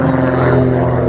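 Siemens radial engine of a Bücker Bü 133 Jungmeister aerobatic monoplane, built in Germany in 1936, performing at an air show: a loud, steady propeller drone with a rich low hum, continuous and close.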